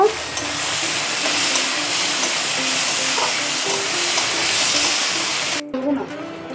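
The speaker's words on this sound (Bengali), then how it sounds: "পেঁয়াজটাকে একটু লাল করে ভেজে নেব।" Onions fry in hot oil with dried red chillies, making a loud, dense, continuous sizzle up close that cuts off abruptly near the end, followed by faint clinks.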